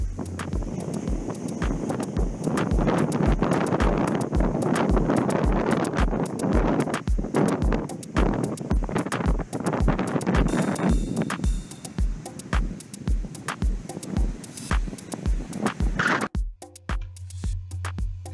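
Strong wind buffets the microphone on a Punta Cana beach at the Occidental Caribe resort, a constant roaring gust noise with rhythmic thumps throughout, dropping off briefly near the end.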